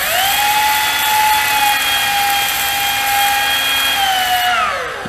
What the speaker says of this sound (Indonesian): Coba saya gunakan untuk mengamplas pisau ini.